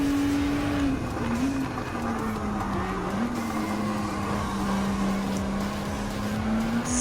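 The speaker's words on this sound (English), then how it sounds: "787B rotary engine sound" Mazda 787B race car with a rotary engine in Gran Turismo 7, holding a steady, loud, buzzing drone at fairly constant revs with slight pitch dips, continuous throughout with no talk.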